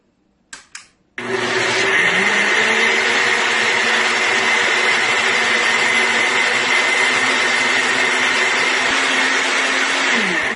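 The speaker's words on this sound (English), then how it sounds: "I finished blending my split peas here" A countertop blender grinds soaked split peas into paste, a loud, steady whirring motor drone after two brief clicks, holding an even pitch before cutting off.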